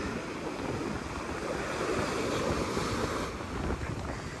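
Steady wind buffets the microphone over a continuous wash of surf breaking on the shore at Panama City Beach, with no voices.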